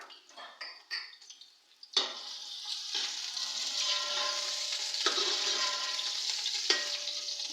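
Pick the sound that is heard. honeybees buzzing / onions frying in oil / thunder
onions frying in oil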